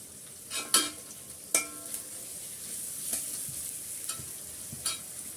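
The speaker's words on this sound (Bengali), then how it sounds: "অল্প একটু নেড়ে চেড়ে পেঁয়াজ আমি এখানে রসুন কুচি দিয়ে দিলাম কিছুটা" Onion and chopped garlic fry in a pan with a low, even sizzle. A utensil stirs them in a series of distinct scraping strokes spaced out over several seconds.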